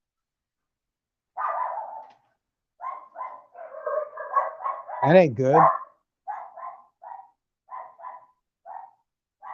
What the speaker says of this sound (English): dogs are barking at something